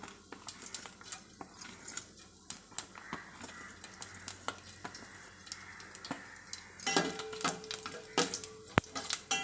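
Whole spices crackle and spit in hot oil, a steady close sizzle broken by sharp popping clicks that grow busier toward the end.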